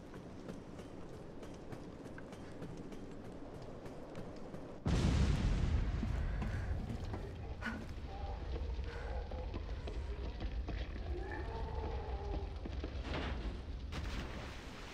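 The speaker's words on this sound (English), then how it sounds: "The train derailed." A train derailing in the Resident Evil 3 Remake video game: a sudden heavy crash erupts midway and gives way to a sustained loud rumble and grinding roar with scattered metallic clanks, following a steady low engine drone.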